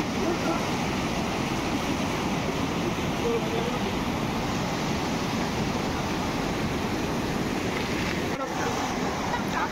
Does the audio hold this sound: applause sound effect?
no